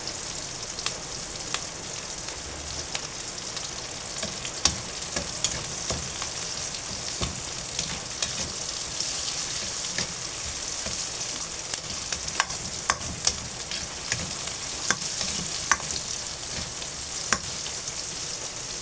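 Pork offal, including lung, intestines, pancreas and heart with bay leaf, frying for dinuguan with continuous close sizzling and crackle, punctuated by occasional sharp pops and light stirring scrapes, and no voices.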